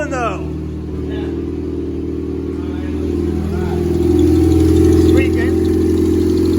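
A Honda H22 engine in an Acura CL idles with a steady, close, even rumble that swells slightly toward the end, while people talk over it.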